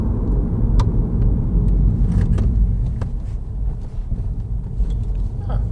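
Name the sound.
300BHP Mini JCW driving over speed bumps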